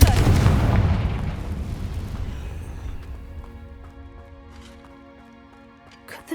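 A Confringo fire curse blast in Hogwarts Legacy hits as a loud booming burst with a fiery crackle. It decays over a few seconds into quiet, tonal game music, and a small clatter sounds near the end.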